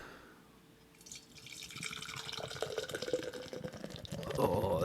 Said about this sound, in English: I'm going to pour this beer into my new Stein, straight from Germany, limited edition